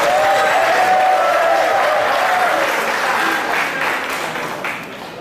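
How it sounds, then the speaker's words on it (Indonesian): A crowd at a community gathering claps steadily, loud at first and gradually fading, with a voice briefly audible over the applause. "Tepuk tangan dulu."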